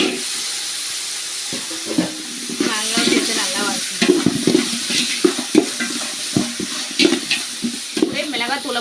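Chili powder sizzles in oil in a pan for a village river-caught kendai fish curry with mango, frying steadily under repeated scraping stirs of a spoon, close and fairly loud.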